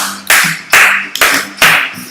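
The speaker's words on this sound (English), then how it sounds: "stop your feet and clap your hands." Four sharp hand claps sound in a slow, even rhythm, close and fairly loud, each followed by a short ring of the room.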